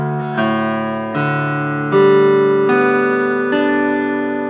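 Acoustic guitar in double drop D tuning, all six strings strummed one at a time in a slow sequence of about six ringing notes, each sustaining into the next, clear and close with no voices.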